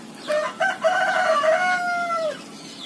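A black rooster crows once, loud and close, with a long drawn-out final note; faint clucking from black chickens sits under it.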